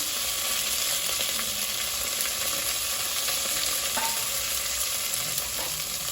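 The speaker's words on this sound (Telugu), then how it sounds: "బాగా ఫ్రై చేసుకోవాలి" Chopped onions and green chillies fry in a pan with a steady, close sizzle that runs the whole time, marked by occasional faint scrapes of stirring and no voices.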